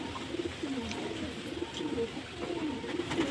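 Pet pigeons coo in a steady, repeated low murmur, moderately close, with faint background noise.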